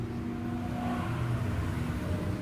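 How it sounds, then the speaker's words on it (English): A white car passes fast along a street near a house porch, a steady rising and falling engine and tire whoosh that fills the whole moment, fairly close, with no talk over it. "That guy in that white car was in a hurry."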